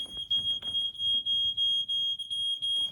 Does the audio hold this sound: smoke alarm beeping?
yes